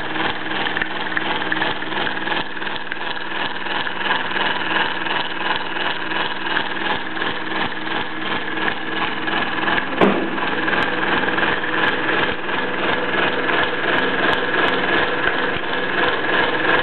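A Bowman E158 model steam engine running steadily, a continuous rapid mechanical chuffing and whirring with an even rhythm throughout, fairly close, with a faint tap partway through.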